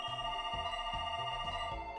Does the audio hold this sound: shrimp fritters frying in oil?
no